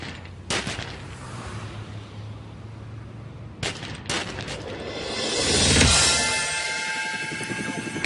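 Shots ring out during a carjacking confrontation with police, several sharp cracks spaced apart over noisy outdoor background, followed by a swelling roar.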